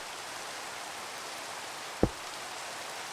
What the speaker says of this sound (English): Didn't we just have rain?